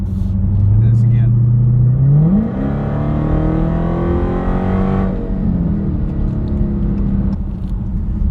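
A Hellcat Dodge Challenger with a muffler delete and DynoMax race bullet tips revs loudly and close by. A deep rumble climbs, then holds a steady high rev before easing back to idle.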